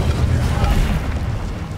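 The Incendio fire spell in Hogwarts Legacy erupts as a deep, rumbling burst of flame, a heavy low whoosh that swells and rolls on for under two seconds.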